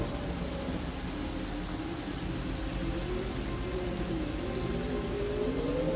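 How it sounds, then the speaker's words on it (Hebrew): Steady, dense rain pours continuously in the fantasy role-playing game Divinity: Original Sin, a close, even wash of falling drops with a low rumble underneath and no pauses. "It's not raining enough"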